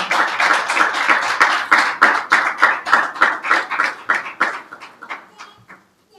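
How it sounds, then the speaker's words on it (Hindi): An Easter Sunday church congregation claps in unison for Jesus Christ, about twenty sharp, evenly spaced beats in a steady rhythm that gradually weaken and die out after about five seconds. "यीशु मसीह के लिए जोरदार तालियां बजाएं"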